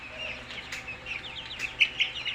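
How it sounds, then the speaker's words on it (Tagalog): Week-old broiler chicks in a brooder give rapid, high peeping chirps, several overlapping and growing louder toward the end, heard close with no talk. "Yung brooder natin doon. Yan, brooder. May laman na mga sisiyo yung mga bago."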